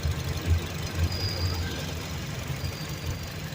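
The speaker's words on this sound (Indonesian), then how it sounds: "Mesin kering ya, halus, masih tidak ada kendala." The dry, smooth-running 1.2-litre engine of a 2015 Honda Brio Satya E automatic idles steadily nearby, a low even rumble with faint regular pulses and no revving.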